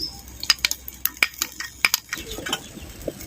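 Curd is stirred into a pan of green chilli mutton curry, giving a rapid series of sharp spoon clicks and scrapes against the metal over a soft sizzle, close up and without voices.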